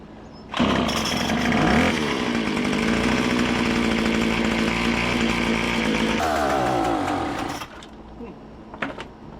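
A chainsaw engine starts abruptly and runs at a loud, steady idle, revving slightly before cutting out near the end.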